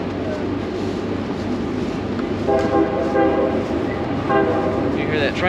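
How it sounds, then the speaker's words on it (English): A passing train sounds its horn in two long blasts over a steady rail rumble, heard outdoors at a dispersed campsite in New River Gorge National Park, West Virginia. "You hear that train?"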